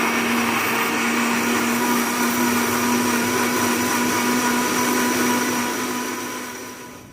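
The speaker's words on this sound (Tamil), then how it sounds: "மிக்சி ஜாரை க்ளோஸ் பண்ணிவிட்டு மிக்சி ஆன் பண்ணலாம்." Mixer grinder blending moringa leaves with water in a jar, a loud steady motor whine with a constant high hum running alone for several seconds, tapering slightly at the end.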